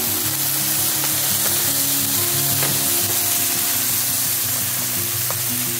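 Chicken sizzling loudly in a pan as soy sauce is drizzled in during a home supper cook-up, a steady dense crackle and hiss with no talking.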